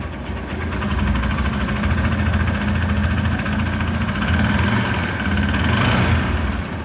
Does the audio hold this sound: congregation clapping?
no